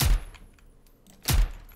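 Two sharp, loud video game gunshots about a second apart, each with a short echoing tail, against a quiet background, during a hostage-rescue assault on terrorists in Zero Hour.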